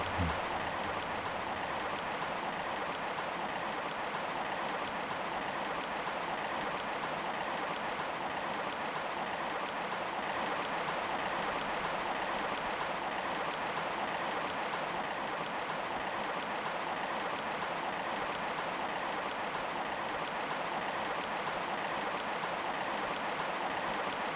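Flowing water current in the Tomb Raider I Remastered video game, a steady, dense rushing wash that stays even and continuous throughout with no voices.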